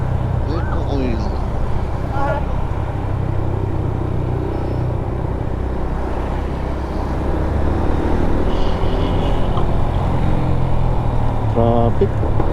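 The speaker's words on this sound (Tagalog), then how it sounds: "Traffic." Road traffic on the Norzagaray–Del Monte Road in Bulacan, Philippines, heard from a Sniper 150 motorcycle: a steady, close rumble of engines with passing vehicles, and a few short horn-like tones over it.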